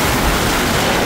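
Strong ocean surf at a beach roars loud and close in a dense, continuous wash of water and wind noise without pause.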